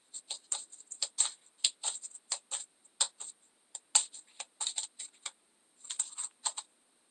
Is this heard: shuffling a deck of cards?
yes